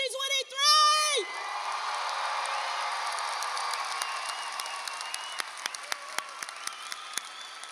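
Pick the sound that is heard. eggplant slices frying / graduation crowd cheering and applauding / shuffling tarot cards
graduation crowd cheering and applauding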